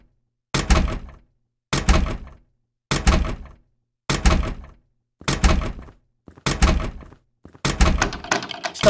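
A locked door being tried in a horror game set in a recycling factory: seven evenly spaced, heavy rattling thunks as the handle is yanked, each short and sharp, with silence between them.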